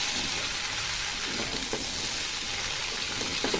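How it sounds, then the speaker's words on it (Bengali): Vegetables such as pumpkin, Malabar spinach and jackfruit seeds frying in hot oil left from frying fish, giving a steady close sizzle and hiss that holds evenly throughout with a faint clatter near the end. "সবজিটাকে কিছুক্ষণ ভেজে নেবো"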